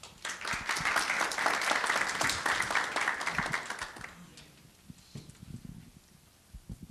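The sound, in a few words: audience applause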